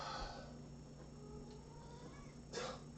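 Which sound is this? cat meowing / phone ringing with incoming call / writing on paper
cat meowing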